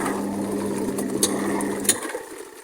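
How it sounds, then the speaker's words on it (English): A washing machine's mechanical timer dial ticks and whirs steadily as it is turned. Brief clicks follow, and then the hum stops abruptly near the end. "This is the timer for the washer."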